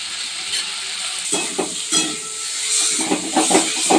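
Potatoes sautéing with spices in a pan, a loud close sizzle broken by repeated stirring scrapes and clanks that grow busier toward the end.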